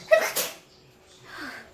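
A single sharp sneeze up close in a home kitchen, followed by a short voice reply.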